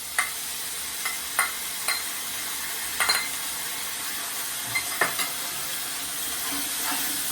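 A ground paste of ginger, garlic, onion, cumin and green and red chillies fries in oil for a fish curry, giving a steady moderate sizzle broken by occasional spoon clinks and scrapes against the pan.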